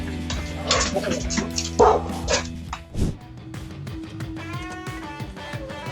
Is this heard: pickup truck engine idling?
no